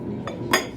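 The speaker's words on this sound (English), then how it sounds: "you see the clinking, right?" Dishes and cutlery clink during a meal: two brief, bright clinks, the second louder, over faint room noise.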